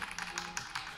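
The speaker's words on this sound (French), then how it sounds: "Je peux, évidemment, écrire avec mon clavier qui est toujours présent ici." Quick bursts of key taps on a keyboard connected to a Microsoft Display Dock running a Lumia 950XL in Continuum mode, close and fairly soft, with no talking.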